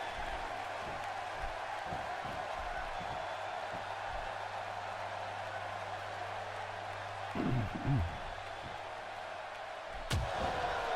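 A wrestling arena crowd in the video game WWE 2K1 keeps up a faint, steady roar throughout, broken by a few dull thuds and slams near the end.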